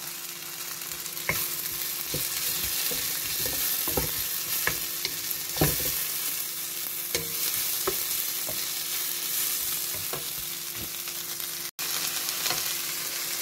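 Steady sizzling in a frying pan as shrimp are added to a veal tail fricassee, continuous crackle with scattered stirring clacks and spoon scrapes throughout, close and fairly loud.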